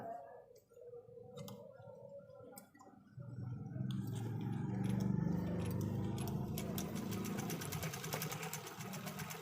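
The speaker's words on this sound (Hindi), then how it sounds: "अब इसकी 8 तहें मैंने बना दी हैं। इस पे जो है ना अब सिलाई लगा के जो है ना चेक करते हैं।" A sewing machine stitches through eight folded layers of cloth with silk thread, starting with a light rapid ticking that swells into a steady, loud mechanical whir lasting several seconds, close by with no talk.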